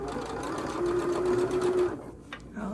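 A quilting sewing machine stitches steadily at close range with a continuous mechanical hum and rapid needle rhythm, then stops abruptly, leaving a brief quieter pause with faint handling noise.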